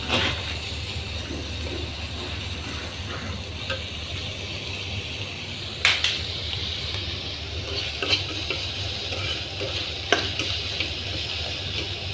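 Onions and green chillies fry in a pan for a prawn and papaya curry. A constant, even sizzle continues throughout, with a few sharp taps as the mixture is stirred.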